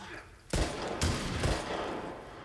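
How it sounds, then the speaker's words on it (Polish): Sawed-off shotgun fire in The Last of Us, with two loud blasts about half a second apart, each followed by a rumbling tail over noisy game ambience. "czas wytestować obrzyn"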